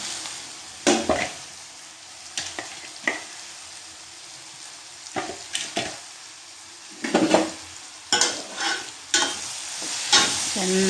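Potatoes sizzle steadily in hot oil in a pan, with repeated scraping stirs from a spoon breaking through the frying hiss, close up.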